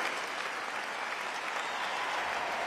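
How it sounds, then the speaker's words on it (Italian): Steady, dense applause from a concert audience at a televised show, filling the whole stretch evenly with no voices over it. "ancora un grande, grandissimo applauso che arrivi fino nelle case del pubblico di Canale 5"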